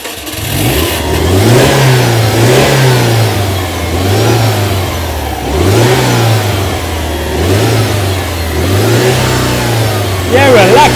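A 2006 Subaru STI engine revs repeatedly from idle, rising and falling in a steady rhythm of about five loud, close blips while people talk over it.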